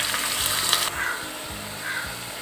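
Two large sliced onions sizzle in oil inside a pressure cooker for Chicken Manthi, a steady close hiss with a few soft stirring bumps and scrapes, and no voices.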